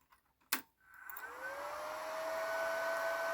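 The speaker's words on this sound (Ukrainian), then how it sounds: "Це е, холостий ход даного блоку живлення." A power supply unit switches on and runs at idle: a click, then a rising electrical whine and hum that settles into a steady tone and holds to the end.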